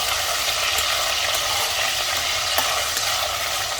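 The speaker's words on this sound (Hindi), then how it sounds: "फूल गोभी थोड़ा सा नमक ऐड कर देंगे, हाफ टी स्पून ऐसे थोड़ा सा तला कर फ्राई कर लेंगे।" Salted cauliflower frying in a little hot oil, a dense, even, close sizzle that holds steady with faint crackles throughout.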